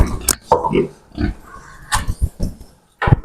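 Pigs settling into a newly built pigsty grunt and snort repeatedly at close range, loud and uneven, mixed with people talking nearby.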